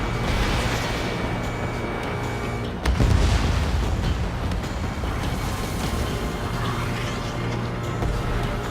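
Missile explosions in the jet combat game Ace Combat 7, bringing down enemy bombers: a loud, dense roar of blasts and rumble with a sharp boom near the three-second mark, continuing as a heavy, sustained wash.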